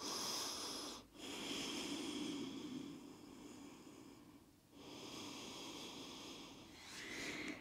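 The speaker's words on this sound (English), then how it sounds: "Take 2 deep breaths." Slow, deep breaths during a yoga stretch, each a long airy inhale or exhale with a faint nasal hiss, close to the microphone, with brief pauses between them.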